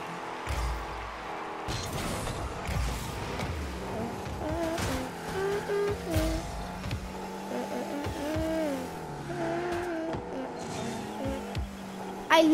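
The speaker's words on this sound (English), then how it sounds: "over here I'm gonna drift and hit the ball" Tires squeal as a rocket-powered car drifts in Rocket League, with engine revving and sliding screeches rising and falling amid lively game sounds and music, plus talk over the top.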